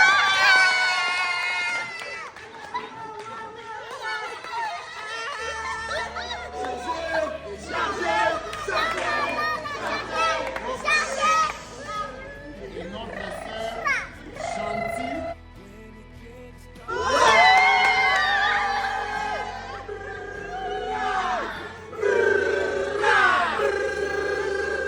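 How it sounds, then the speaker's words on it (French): Guests at a gender reveal baby shower in Dubai cheer and clap in bursts around a speaker's voice over a microphone, with lively crowd noise and background music rising and falling. "On va acclamer."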